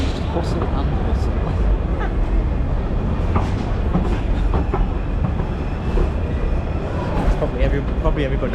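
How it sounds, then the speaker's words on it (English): A bustling indoor train station in Edinburgh with a dense crowd murmur, footsteps and rumbling rail noise echoing together; voices chatter throughout. "We decided to take a shortcut through the train station."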